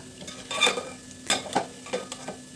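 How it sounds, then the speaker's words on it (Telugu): Roasted split chickpeas (putnalu) fried and stirred in a pan for a poha mixture snack, heard as several intermittent scraping stir strokes with a light sizzle underneath, close up and with no talking. "ఈ పుట్నాలు కూడా బాగా వేయించుకోవాలి."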